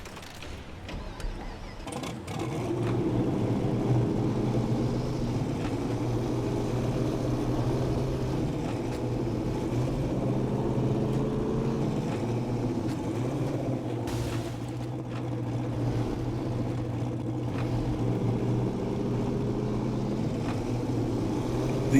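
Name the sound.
truck engine in the video game SnowRunner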